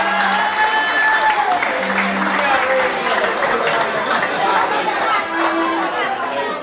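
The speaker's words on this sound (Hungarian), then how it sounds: "egy óriási tapsot szeretnék kérni a párodnak!" Wedding guests applaud the couple at a reception, a dense, steady wash of clapping mixed with crowd chatter and some voices throughout.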